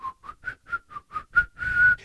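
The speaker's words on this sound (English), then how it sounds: "I was walking around whistling." A person whistles a tune while walking around, a series of short clear notes in a steady rhythm ending on a longer held note, close and alone.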